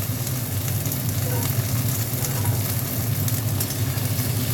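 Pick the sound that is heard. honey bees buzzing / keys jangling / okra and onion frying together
okra and onion frying together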